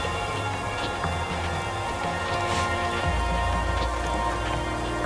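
Steady rain falling in the video game Keeper, a continuous soft patter across the whole stretch with a low rumble that thickens partway through, no talk over it.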